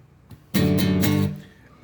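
A single acoustic guitar chord from a song rings out briefly and clearly, then fades.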